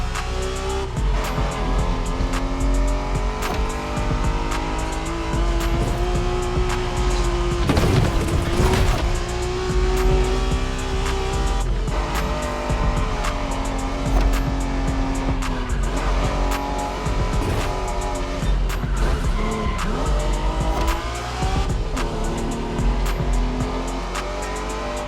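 A Honda NSX race car in The Crew Motorfest video game roars loudly and close, its engine revving and shifting while tires squeal and skid through corners, with one sharp burst midway.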